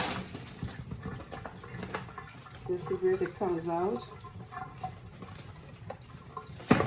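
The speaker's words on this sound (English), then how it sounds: "I pass a little water on it just to get it going" Tap water runs and splashes over a raw turkey in a kitchen sink, a soft continuous trickle with someone talking over it throughout.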